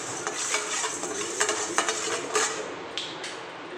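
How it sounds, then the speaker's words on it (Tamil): Urad dal dry-roasting in a pan, stirred steadily with a spoon: a continuous dry, gritty rustle broken by scraping strokes and a few sharper clinks of utensil on metal, close and with no talk. "உளுந்தம்பருப்பையும் வறுத்துருவோம்"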